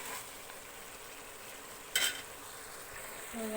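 Steady sizzling of chicken frying in a pan as masala is stirred in, with a brief louder scrape of stirring midway and faint clinks near the end.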